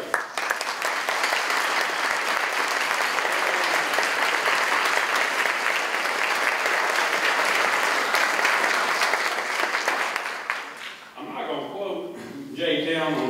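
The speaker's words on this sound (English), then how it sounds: "I would ask you to stand and get a round of applause for the people who put this party together." An audience at a Madison County GOP party gives a sustained round of applause for the volunteers who organized the event, a loud, dense clapping that rolls on for about ten seconds before fading as a voice begins speaking.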